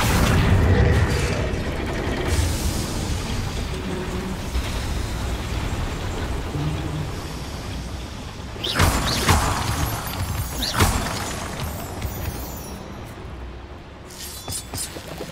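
Confringo explosive curse cast in Hogwarts Legacy, a fiery spell blast followed by mechanical clanks and two sharp bursts with crackling debris over a steady game ambience, no talking.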